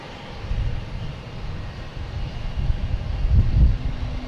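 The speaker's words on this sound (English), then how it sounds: "We get Japan Airlines coming in." A Japan Airlines Boeing 787 Dreamliner from Tokyo comes in to land at Boston Logan, a low rumbling engine drone that swells gradually and peaks with heavy low thuds near the end, with wind buffeting underneath.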